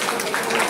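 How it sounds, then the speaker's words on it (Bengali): Crowd of parents and audience clapping at a Saraswati Puja Bengali school dance show, a steady close wash of applause lasting briefly without pause. "সবাই মিলে একটু আমাদের হাততালি দাও"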